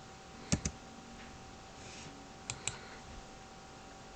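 Two quick pairs of key clicks on a computer keyboard while typing quiz answers into an online test, faint and sparse over a quiet room hum with no speech.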